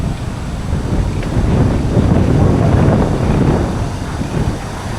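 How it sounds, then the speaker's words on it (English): Strong, steady wind buffets the microphone outdoors in Shanghai ahead of Typhoon Bavi, a continuous low roar swelling slightly in the middle, with no talk. "It's still windy."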